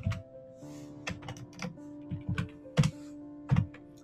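Rapid clicky typing on a computer keyboard during a programming session, a close run of irregular keystrokes with a few heavier thunks, set against a faint steady electrical hum.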